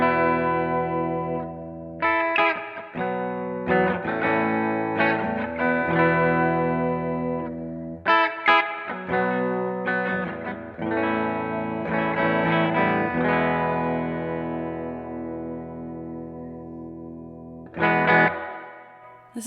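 Clean electric guitar from a Fender Tom DeLonge Starcaster through a Silktone Overdrive Plus and UA Golden reverb into a Marla Amplification S10B amp, miked with a Sennheiser 906, playing loud ringing chords in phrases with gaps, alone.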